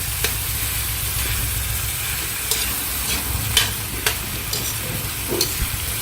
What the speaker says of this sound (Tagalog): So, halu-haluin lang din natin